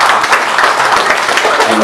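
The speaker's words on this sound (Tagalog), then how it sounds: "Okay, palakpak po." An audience at a December 8, 2015 event in Puerto Princesa, Palawan claps in steady, dense applause that fills the short moment from start to finish.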